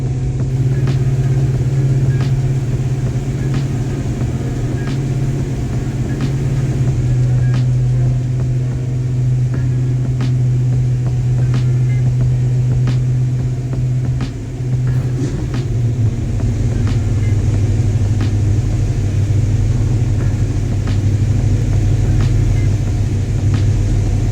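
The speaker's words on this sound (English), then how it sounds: "It's up on the fast idle cam right now, and that's about as far as it'll come down" A 1970 Ford Mustang engine runs on the fast idle cam with its carburetor, holding a loud, steady, close-up low rumble with a constant drone and no clear revving throughout.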